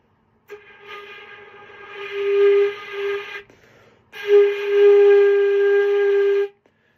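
Two low, breathy flute notes sound in a beginner flute lesson, each held for a couple of seconds with a short pause between them; the lowered pitch comes from slow air.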